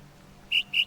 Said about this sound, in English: Birds. It's always the birds.